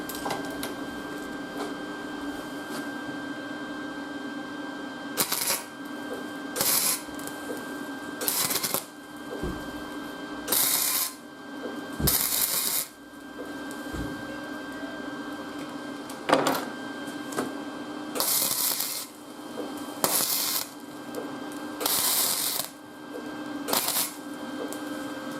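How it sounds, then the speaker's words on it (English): Gasless flux-core welding tacks steel fender riser brackets for a Honda Africa Twin CRF1000L, about ten short sharp crackling bursts spaced a few seconds apart over a quiet workshop hum. "This gasless welding is a little bit messy, but I will clean all that up."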